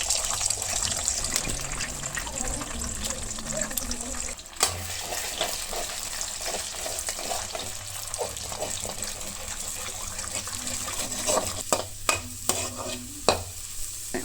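Egg frying in hot oil in a kadai for egg fried rice, a steady close sizzle with occasional spatters and scrapes running throughout.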